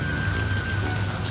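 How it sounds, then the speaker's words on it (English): Rain falls steadily in Kibera, Nairobi, a close, even hiss of drops on surfaces with a faint thin tone running underneath. "All right, things took a rainy turn."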